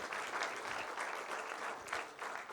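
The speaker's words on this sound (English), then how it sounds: "Please give him a big round of applause." Audience applause in a conference session hall, a quiet but steady patter of many hands clapping, rising slightly in places, with no speech over it.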